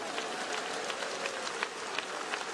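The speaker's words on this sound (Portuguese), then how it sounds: "Desocupem as mãos, batam palmas, glorifiquem ao Senhor." Church congregation clapping hands together, a steady dense patter of many hands at moderate distance, continuous throughout with faint sharper accents and no talk.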